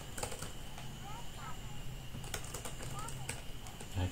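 Keys tapping on an Axioo laptop keyboard, quick irregular clicks in short bursts, quiet and close, while someone speaks over the typing.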